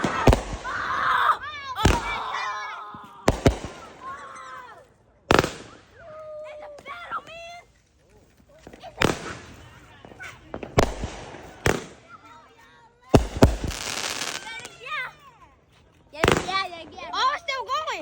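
Fireworks pop and bang repeatedly at irregular intervals, with sharp nearby bursts and crackling between them, while a person talks and reacts excitedly throughout.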